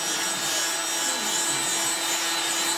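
Kitchen roll rubs polish into the wooden dashboard trim of a Triumph Vitesse, a steady, continuous close-up scrubbing swish with no pauses, fairly loud and without any talk.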